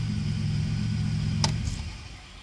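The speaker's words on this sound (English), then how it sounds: "You hear that damn idler pulley is just shit." The engine of a worn 2006 Chevrolet Impala 9C1 former police car runs with a low, steady hum and a faint whine, a single sharp click cutting in before the sound fades.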